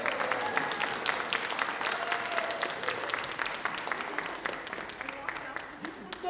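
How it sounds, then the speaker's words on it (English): Audience applause in a church Sunday service hall as a speaker is brought up, steady dense clapping from many hands filling the room, moderately loud and sustained, tapering slightly near the end. "We should give her a real big round of applause when she comes in."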